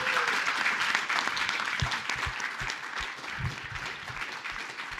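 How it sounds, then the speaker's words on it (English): Applause for graduates at a ceremony, a moderately distant crowd clapping steadily with a few louder nearby claps and thumps standing out. "So please, one last round of applause for all of our grads"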